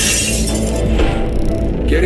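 Glass shatters in the video game The Last Worker, a loud, sustained burst of breaking and tinkling shards lasting about two seconds.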